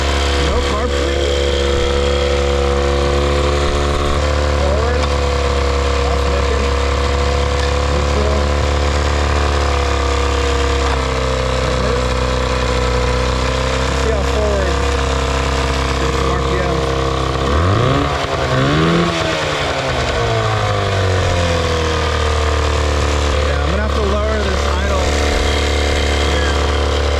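Johnson or Evinrude outboard motor idling a little high with no carburetor cleaning, a steady, loud, close droning hum that dips and shifts briefly near the middle.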